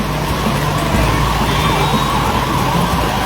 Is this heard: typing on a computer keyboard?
no